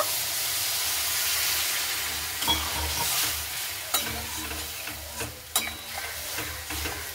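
Spiced okra sizzles and hisses steadily in a hot pan after a little water is added, a broad continuous frying crackle broken by a few sharp clinks of a spatula stirring against the pan.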